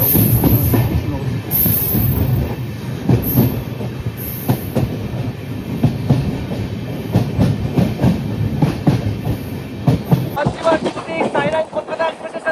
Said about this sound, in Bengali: এই হচ্ছে কলকাতা সাইরাং এক্সপ্রেস